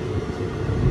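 The 13141 Teesta Torsha Express running past Nabadwip Dham station, a brief steady roar of rolling wheels and train noise heard close and continuous.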